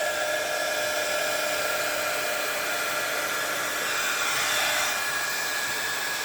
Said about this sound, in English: now I'm going to take my heat tool and start drying